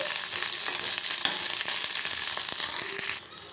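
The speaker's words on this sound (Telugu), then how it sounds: "ఇప్పుడైతే ఈ పండు మిర్చిని చక్కగా వేయించుకోవాలి" Red chillies fry in hot oil for a fresh red chilli chutney, giving a steady, dense sizzle with crackling pops that drops quieter near the end.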